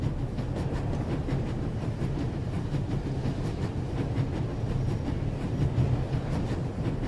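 In The Raven Remastered video game, a train races at full speed with a continuous heavy rumble and faint rhythmic clatter, steady and enveloping without any talk.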